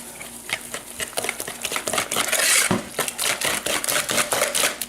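A whisk or spoon beats sugar into eggs in a bowl for coconut pie, giving quick, rhythmic clicking and scraping strokes that speed up in the middle and carry on close and clear.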